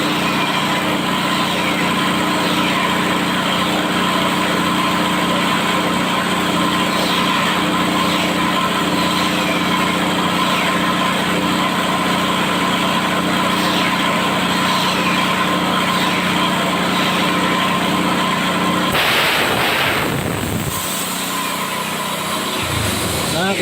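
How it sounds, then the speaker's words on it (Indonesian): An air compressor pumps up a motorcycle tire to roughly 200 PSI during tire retreading, a steady loud mechanical drone running continuously, then breaking into a few short bursts and clatter near the end. "ini dipompa dengan kompresor dengan tekanan kurang lebih"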